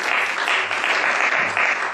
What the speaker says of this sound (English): Give a big round of applause for showing up today and being present.